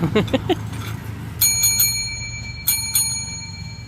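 A small bell rings in a few quick bright bursts, then again after a pause, its tone lingering, with a voice briefly heard beforehand.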